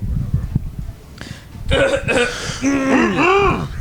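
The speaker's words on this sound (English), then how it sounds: "I don't want to clear my throat in the mic" A throat clearing sound, followed by voiced, sliding vocal noises close to the mic, with no words spoken.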